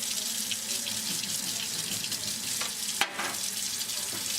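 Makeup brushes are rinsed under a running tap, a steady close hiss of water with brief splashy shifts as the brushes move through the stream, heard alone without talk.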